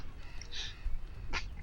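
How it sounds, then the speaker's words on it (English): A single person's sneeze, a sharp breathy burst with a brief lead-in, standing alone against a low background hum. "I gotta sneeze, like, for real."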